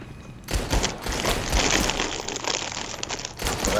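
Bursts of gunfire from the zombie video game Dead Rising 3, a loud rapid volley of shots that starts abruptly and runs almost continuously for about three seconds before cutting off.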